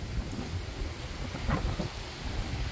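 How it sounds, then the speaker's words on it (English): Steady rain falls outside a garage with a low rolling rumble of thunder, a continuous broad hiss of moderate loudness with no talk. "Well, we're getting some rain."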